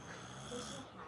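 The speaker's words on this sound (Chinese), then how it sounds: "开始打呼。" A young child snoring in sleep, one soft, close breathy snore drawn out over the whole moment, quiet and alone.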